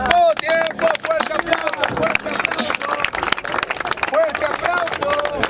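Audience at a freestyle rap battle breaks into dense clapping and cheering, sharp rapid claps over a crowd roar with shouting voices mixed in, loud and close.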